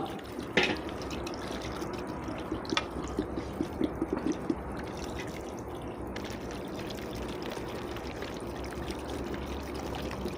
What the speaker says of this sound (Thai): แล้วก็ใส่น้ำลงไป นะคะให้ท่วม